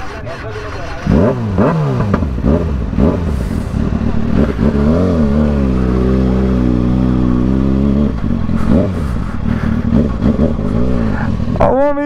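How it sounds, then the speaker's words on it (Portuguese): A 2011 Kawasaki Ninja ZX6R motorcycle engine idles loudly nearby and is revved several times, each rev rising and falling in pitch, with brief voices in the background. "Vou fazer um videozinho na moto"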